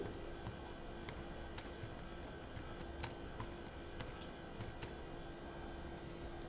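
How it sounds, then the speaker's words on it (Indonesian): Keys pressed on a computer keyboard, a sparse series of faint, soft clicks over a steady electrical hum, with no talking. "pencet tombol enter"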